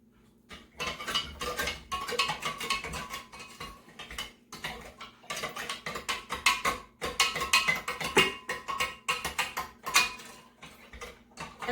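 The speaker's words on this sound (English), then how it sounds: "I'm going to stir the tea." Black tea with sugar stirred in a jar with a metal spoon, giving irregular clinking and ticking taps against the glass that come in bursts with short pauses, close and fairly quiet.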